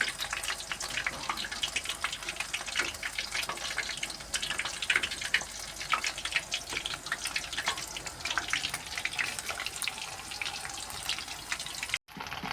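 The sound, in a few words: chicken popcorn frying in oil on low flame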